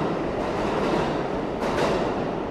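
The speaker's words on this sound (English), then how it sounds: "I'm at the 42nd Street Times Square Station on the 7 train platform" Subway train at the 7 train platform in the 42nd Street Times Square station in New York City, a loud, steady rumbling roar with a brief rising screech partway through.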